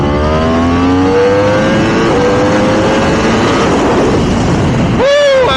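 A 2022 Yamaha R1M sport bike accelerating hard from a 70 mph roll against a McLaren 720s, its engine note rising loud and close through the gears. A brief shift comes near the end, then another climb, with strong wind noise throughout.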